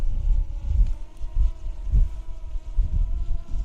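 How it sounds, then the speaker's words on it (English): Wind gusting over an open wheatbelt field where a drone is being flown, a steady low rumble and buffeting on the microphone that swells and eases in irregular gusts, with no talk. "it's quite windy"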